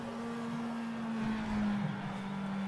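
Engines of other race cars in Automobilista 2 hum and whine steadily at close range, with a sustained tone that sweeps slowly downward, and no talk over it.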